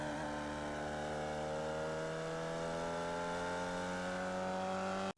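A Formula Vee race car in iRacing at the Charlotte Legends RC Long circuit, its engine holding a loud, steady buzzing drone at high revs throughout before cutting off abruptly at the end, no talk.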